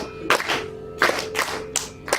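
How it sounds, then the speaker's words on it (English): Students in a Carnatic violin lecture-demonstration clap for themselves in a few separate bursts of hand claps, close and fairly loud, with short gaps between. "You can applaud for yourself."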